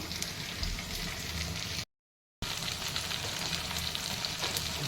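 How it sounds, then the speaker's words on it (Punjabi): Eggplant frying in oil makes a steady, moderate sizzle with fine crackling, broken by a brief silent gap midway, and no voices. "ਇੱਥੇ ਮੈਂ ਤੇਲ ਦੇ ਵਿੱਚ ਇਹਨਾਂ ਨੂੰ ਫਰਾਈ ਕਰ"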